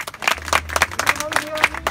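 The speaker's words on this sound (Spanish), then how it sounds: "El aplauso para Esmeralda." Brief audience applause at a Children's Day celebration, a quick burst of scattered clapping from a small crowd under a low hum, loudest in the middle.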